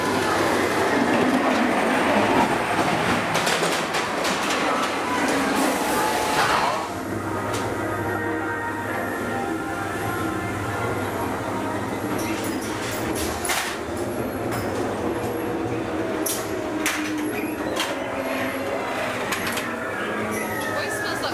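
Ghost train ride at Blackpool Pleasure Beach, a steady rumble of the ride's cars running along the track with clattering and occasional sharp clicks, continuous throughout with some voices in the background.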